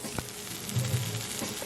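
Cheese and potato pancakes fry in a pan with a soft, steady sizzle and faint crackling, quiet and close, with a light thump early on.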